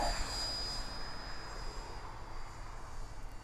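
Turbo Timber Evolution light airplane engine droning steadily during a no-flaps takeoff, a sustained broadband roar with a faint high whine, continuous and fairly close throughout.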